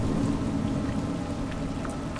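Rain in the video game A Juggler's Tale, a steady hiss of falling rain with a low rumbling bed beneath, even and continuous with no voices.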